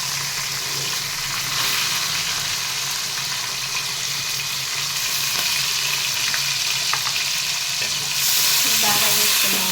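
Onion and green chilies fry in a couple of spoons of oil for a prawn cucumber masala curry, a steady close sizzle with occasional stirring, rising louder near the end, with no talk.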